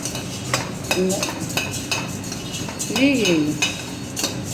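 Coriander seeds roasting in a pan, stirred with a spoon that scrapes and clinks against the metal in a steady rhythm while a voice talks briefly over it.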